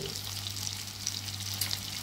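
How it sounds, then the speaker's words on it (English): Shrimp frying in coconut oil in a frying pan gives a steady, close sizzle throughout, with no talking. "Same frying pan, I just added a shrimp. I'm going to let this fry"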